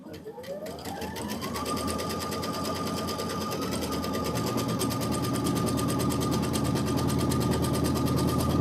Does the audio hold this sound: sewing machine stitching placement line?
yes